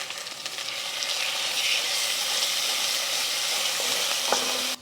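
Spicy rendang curry paste fries in a pan for a chicken rendang, giving a steady, dense sizzle that holds unbroken and close throughout, with a few faint stirring scrapes near the end.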